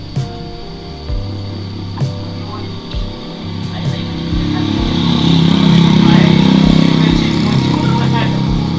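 Suzuki Satria FU 150 motorcycle with a fault that makes it strain and lack power, idling with rhythmic blips, then revving up into a sustained loud roar, recorded close with background chatter.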